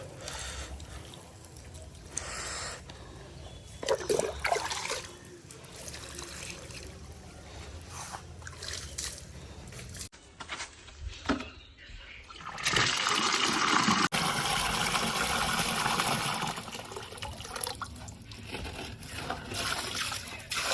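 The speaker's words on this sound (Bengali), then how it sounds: "ইটগুলো ধুয়ে দিই জল খাক ইটগুলো" Water poured and splashed over bricks at a home construction site, a continuous trickling and gushing stream that swells louder midway, heard close with background noise.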